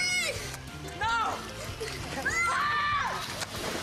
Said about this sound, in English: Just push me in the pool.